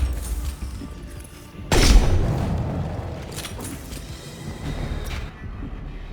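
A video game firefight with gunfire and a sudden heavy explosion boom partway through, followed by scattered shots and rumbling battle noise.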